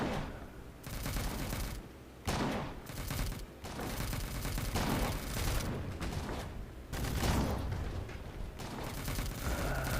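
Assault rifles fire in the video game M.A.V. in sustained, angry bursts of rapid automatic gunfire, loud and close, broken by a few short pauses between volleys.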